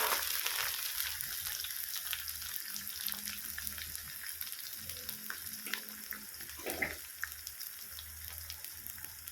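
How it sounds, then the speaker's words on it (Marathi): Chopped onion fries in hot oil, giving a steady close sizzle with crackling pops and the odd scrape of stirring throughout. "कांदा तेलामध्ये भाजून घ्यायचंय."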